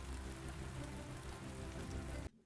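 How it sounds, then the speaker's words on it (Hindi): Light rain falling outside a window makes a steady, even hiss of drops on surfaces, continuous and soft, then cuts out abruptly near the end. "खिड़की के बाहर हल्की हल्की बारिश"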